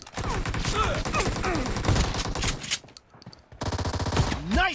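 Video game gunfire: dense rapid bursts of automatic shots crackle loudly for several seconds, pause briefly, then resume in another volley, with synthetic whooshing effects mixed in.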